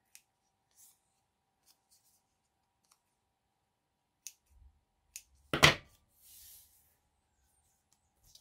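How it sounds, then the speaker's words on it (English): Scissors trimming threads on fabric: a few faint isolated snips, then one sharp, louder cut followed by a soft rustle, with quiet gaps between. "And then I can just trim them a little bit."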